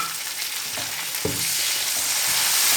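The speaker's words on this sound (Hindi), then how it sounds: "अब फ्राई करते हैं टमाटरों को, उतनी देर तक फ्राई करेंगे जब तक नरम ना हो जाए।" Tomatoes and green chillies fry in a pan for a Pakistani shaljam gosht curry, giving a steady close sizzle that grows fuller after a brief clatter partway through, with no voices.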